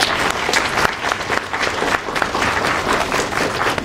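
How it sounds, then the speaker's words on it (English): Warm applause from a panel-discussion audience, dense steady clapping that fills the whole stretch at close range without letting up. "can we get a warm round of applause for our panelists?"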